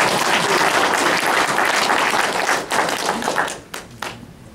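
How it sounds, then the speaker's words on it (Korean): Dense audience applause from a large crowd at a political speech, loud and sustained, thinning out toward the end into scattered claps. "이 대목에서 박수 한번"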